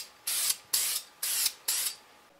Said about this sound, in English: I now have a thin layer of spray put on there